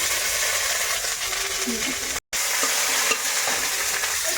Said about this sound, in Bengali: শুকনো লঙ্কা ভেজে নিচ্ছি